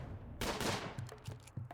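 Gunfire erupts in a video game battle against raiders, a dense burst of overlapping shots followed by a few scattered single cracks, moderately loud with no voices.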